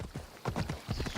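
Phobos, a horse in the video game Assassin's Creed Odyssey, gallops with a quick, close, steady clip-clop of hooves on the ground, repeating in rhythmic bursts with a brief whinny-like tone near the end.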